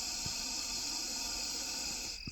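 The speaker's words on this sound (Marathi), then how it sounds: "त्याला धोका जाणवला तो मोठे मोठ्याने फुंकारे टाकतोय" A Russell's viper gives a loud, steady, breathy hiss that runs continuously and cuts off near the end, with a couple of faint low thumps.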